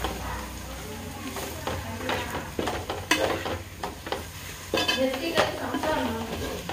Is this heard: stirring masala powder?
yes